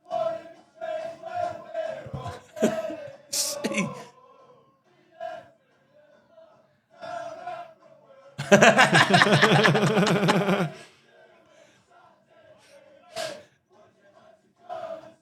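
Non-league football fans chant to the tune of a song in a loud, dense crowd burst lasting about two seconds midway, with conversational talk before and after it.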